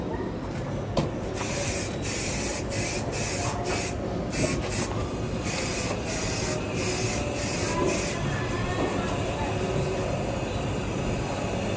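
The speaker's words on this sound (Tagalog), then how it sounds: "bali nag-i-spray na siya sa harap ng glass coating" Close, steady hiss of glass coating being sprayed onto the windshield of a Ford Raptor during glass detailing, in repeated short bursts over a continuous rushing noise.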